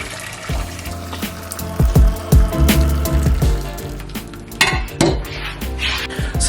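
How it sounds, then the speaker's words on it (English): Hot water splashes and runs into a metal pan amid clinking cookware and kitchen clatter, fairly close and moderately loud. "So I'm just going to add some hot water into a pan."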